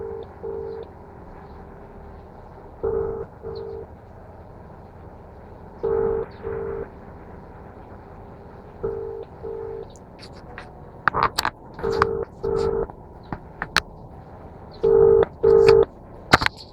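Outgoing call ringback tone on a ride-hailing driver's mobile phone in Nepal: paired beeps repeat roughly every three seconds, clear and steady, with a few sharp clicks and blips near the end and no talking.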